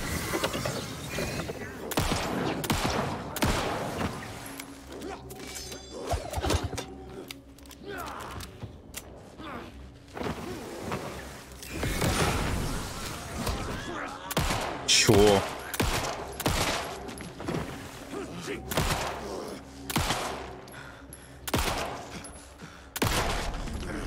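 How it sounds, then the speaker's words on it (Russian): Gunfire in the video game Alan Wake 2 comes as repeated sharp shots and bursts mixed with mechanical clicks and clatter, loud and irregular throughout. "Они там выстрелы не слышат, они не хотят идти мне на подмогу."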